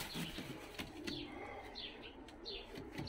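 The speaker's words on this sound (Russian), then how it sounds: "Сейчас накормлю голубей, вечерняя кормежка получается, и птенцы будут, смотрите, как дерется" Pigeons cooing and fluttering at an evening feeding while chicks scuffle, close and fairly faint, with soft calls and brief wing flaps over a busy background.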